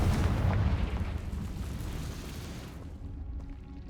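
A loud, rumbling explosion from the Bombarda spell in the video game Hogwarts Legacy, booming at first and then fading away over a few seconds.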